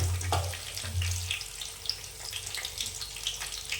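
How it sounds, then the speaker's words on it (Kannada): Urad dal and chana dal fry in hot oil, a steady bright crackle and sizzle running the whole time, with a low clunk near the start. "ಎಣ್ಣೆಲಿ ಚೆನ್ನಾಗಿ ಫ್ರೈ ಮಾಡ್ಕೋಬೇಕು"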